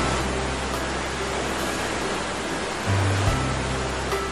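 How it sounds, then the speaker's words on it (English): A continuous broadband rush of falling water, steady and fairly loud, with a brief low hum rising near the end. "listen to the murmuring of waterfalls."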